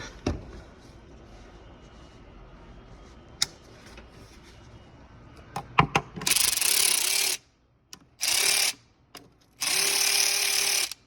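A ratchet tightening valve cover bolts on a Kia Optima: a few scattered clicks and knocks at first, then three loud, steady bursts of rapid ratcheting separated by short pauses, close and without talk.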